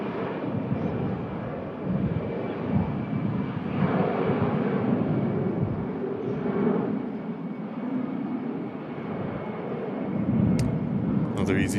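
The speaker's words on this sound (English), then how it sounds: "Another EasyJet flight out to Malaga. A319." EasyJet Airbus A319 departing Manchester Airport for Malaga, a steady low jet rumble at a distance holding for around twelve seconds, with people talking over it.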